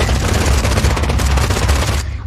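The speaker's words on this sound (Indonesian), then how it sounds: "Tak lama ada sekelompok pasukan yang membuka pintu lalu memberondong mereka semua dengan tembakan." Soldiers burst through a door and spray a room with rapid automatic gunfire in an action film, a dense, loud, continuous rattle of shots with heavy low-end booming that cuts off abruptly.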